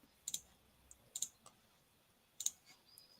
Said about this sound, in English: All y'all just hearing a lot of typing.